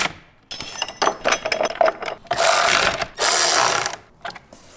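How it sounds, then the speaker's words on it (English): Socket ratchet and wrench tightening bolts on a DECKED truck bed drawer system in a Jeep Gladiator bed, close crisp clicking runs alternating with longer sustained ratcheting bursts. "using a 7/16 inch wrench and a 3/8 inch socket, I'm going to go ahead and secure these in place now"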